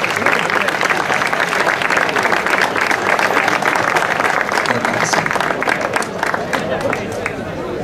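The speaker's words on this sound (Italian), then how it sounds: "Un applauso a tutti e tre." Lively crowd applause for three podium finishers at an Italian hill-climb race award ceremony at Tiriolo, loud and continuous with crowd chatter mixed in.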